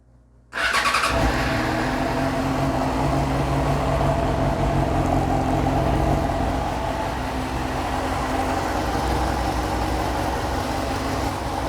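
A warmed-up car engine with throttle body and intake manifold under vacuum testing cranks and catches abruptly, then settles into a steady, loud, even idle that holds for about eleven seconds.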